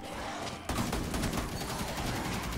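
Steady, dense gunfire from a gun in Rainbow Six Siege, the Outbreak event, with a louder stretch of rapid shots running continuously through most of the moment and a muffled game bed underneath.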